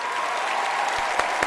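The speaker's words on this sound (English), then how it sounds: "So please give a big applause to the beautiful orchestra" An awards-show audience applauds an orchestra, a dense, even wash of clapping filling the whole moment at close range with no one speaking.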